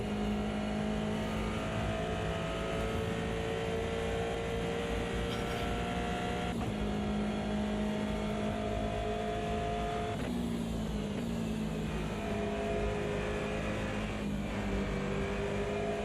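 An Aston Martin race car engine in the Automobilista 2 endurance racing game holds a steady, loud drone throughout, with pitch shifts as it revs and shifts gears.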